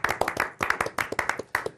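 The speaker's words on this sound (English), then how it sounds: "with clapping." A short burst of close hand clapping on a podcast set: a dozen or so crisp, slightly uneven claps in quick succession, with no voices over them.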